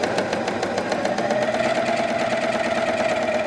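A Janome Coverpro 900cpx coverstitch machine runs steadily, giving a fast, even mechanical whir and rapid needle chatter that continues without a break and stays up close.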